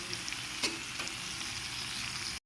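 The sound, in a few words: potato and bitter gourd frying with spice paste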